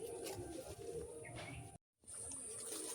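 A female pigeon for sale coos softly in a close, low murmur, with other bird chirps and a brief dropout of sound partway through.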